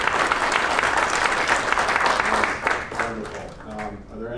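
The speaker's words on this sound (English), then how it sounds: "please give them a round of applause" An audience applauds after a fireside chat on artificial intelligence, loud dense clapping that holds for a few seconds and then thins out toward the end.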